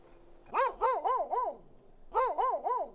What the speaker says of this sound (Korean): 바로 개 짖는 소리